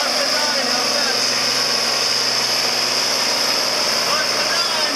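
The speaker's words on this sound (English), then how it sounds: "Mark Medine, that's a good running tractor." An International 1086 tractor runs at a tractor pull, a steady droning engine held at constant pitch with a high whine over it, heard at a distance and continuous for the whole stretch without any break.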